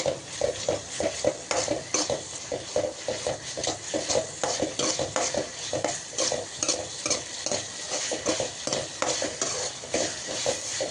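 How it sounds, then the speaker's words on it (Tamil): A spatula stirs ridge gourd stir-fry in a pan, scraping in a steady, busy rhythm over a constant sizzle of frying oil, close and continuous with no voices. "இந்த மாதிரி கிளறிக்கிட்டே இருக்கணும்."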